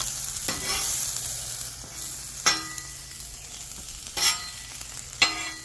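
Onions and garlic sizzle steadily in a hot pan, with a few sharp bursts as the food is stirred or tossed, close and alone without talk.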